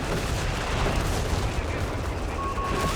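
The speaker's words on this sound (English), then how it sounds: "that's Indian artillery bringing in the air burst" Artillery air-burst barrage in a Company of Heroes 3 4v4 match, a dense continuous rumble of overlapping shell bursts and gunfire, loud and sustained throughout with no pauses, with faint voices underneath.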